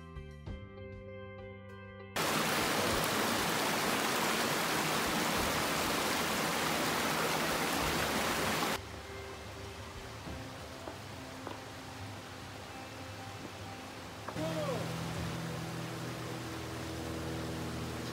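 A little creek runs through a wooded grove along a coastal hiking trail, its broad rushing hiss filling the scene loud and continuous, shifting in level as the listener moves, with no talk.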